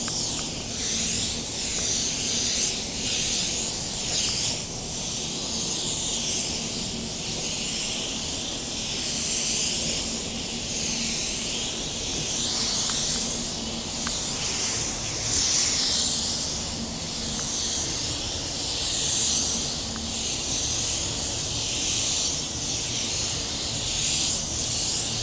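A paint spray gun lays down a second coat without a paint booth, giving a loud, continuous airy hiss that swells and eases in repeated passes with no talking.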